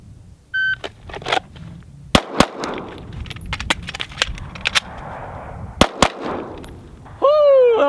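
Several sharp, loud pistol shots crack nearby in a timed shooting drill. They come in quick pairs and singles, with a shot-timer beep near the start and a rising electronic tone at the end.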